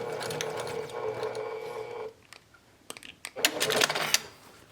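A sewing machine runs with a steady mechanical whir while back stitching the casing of a round drawstring bag, stopping abruptly midway, followed by a short pause and then bursts of rattling clicks as the fabric is handled.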